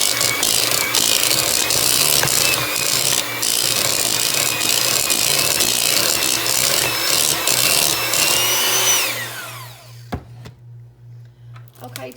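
An electric mixer beats a block of cream cheese in a bowl with a loud, steady whirring and grinding that runs for about nine seconds, then winds down and stops, leaving a few clinks.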